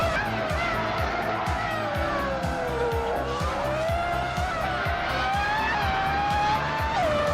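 F1 1998 race cars at Autopolis Oita in a racing game, with a high engine whine that rises and falls steadily as the car shifts through gears. Tire squeal and other nearby cars run continuously beneath it at a steady level.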